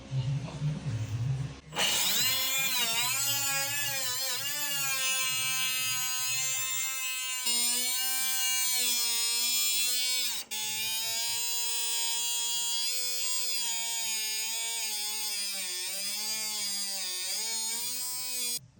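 A high-pitched power tool grinds and whines steadily into hardened steel on a Ford Foxbody project, loud and close. The cut briefly starts and restarts, and a few soft voices sit faintly beneath it.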